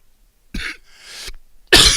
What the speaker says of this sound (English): a lot of coughing